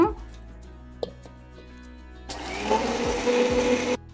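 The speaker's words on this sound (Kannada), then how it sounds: "ನೋಡ್ರಿ, ಮೊದಲು ಅವಲಕ್ಕಿ ಅಷ್ಟ ಮಿಕ್ಸರ್ ಮಾಡ್ಕೊಳ್ಳೋಣ." A small mixer grinder jar whirs as it grinds roasted flattened rice (poha) into powder, a steady broadband motor roar switching on midway and running for about two seconds, preceded by faint kitchen clatter.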